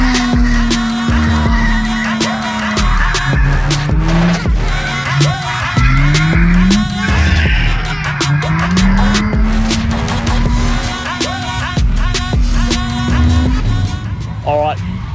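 A car drifting at Morgan Park Raceway, engine droning and shifting pitch as tires squeal through long slides, loud and continuous with a voice talking over it.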